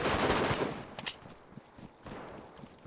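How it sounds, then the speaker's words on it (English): Video game gunfire in a solo deathmatch, a loud rapid burst at the start, then scattered fainter shots and a few short bursts trailing off at mid distance. "I think there's someone shooting in here."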